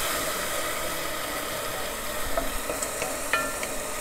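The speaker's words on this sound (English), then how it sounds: "we're gonna add the wine, and this is just white wine. Ooh, hear the sizzle." White wine hitting a hot pan while making Italian wedding soup gives a steady, close sizzle and hiss that runs the whole time, with a few light utensil clicks and stirring sounds near the end.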